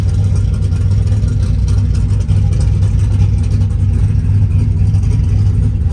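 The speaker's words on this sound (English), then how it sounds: "It's a big motor, 430-inch motor." A Chevrolet Trailblazer SS with a 430-cubic-inch engine running, a loud, steady deep rumble with a heavy low throb, close by and continuous without talking.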